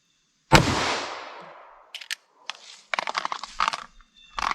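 A single loud, close 9mm shot from a 5-inch barrel firing a Fluted Xtreme Defender bullet into ballistic gel, its boom decaying over about a second, followed by scattered clattering and rustling handling noises.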